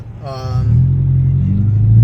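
A car engine idles and builds to a low, steady drone on a test drive, growing louder over two seconds, with a brief voice near the start.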